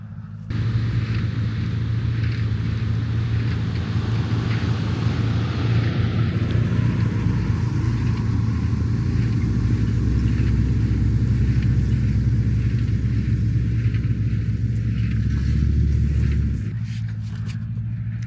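An old truck loaded with hay bales strains uphill and its wheels spin out, giving a steady, heavy low rumble with a droning engine note that drops away near the end, with no talk.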